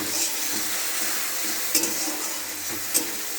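Water splashes into spice paste frying in a pan for a Bengali potato and rohu fish curry, giving a steady hiss with a few soft stirring knocks, close and alone.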